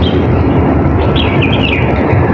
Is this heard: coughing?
no